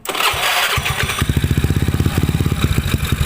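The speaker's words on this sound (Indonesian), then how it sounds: "Nah ini mau mati nih mesin nih" A carbureted Honda Beat scooter engine with a PE 24 carburetor coughs into life and settles into a rapid, slightly uneven putt-putt idle close by, sounding close to stalling.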